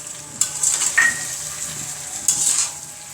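Half-ripe mango pickle with sugar stir-cooked in a pan: a soft, steady sizzle with a few sharp scrapes and clinks of the spoon against the pan, heard up close.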